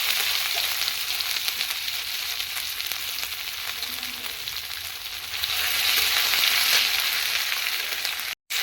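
Ginger garlic paste and bay leaves frying in hot oil, a strong steady sizzle close up that swells louder partway through, with soft stirring scrapes and an abrupt cut near the end.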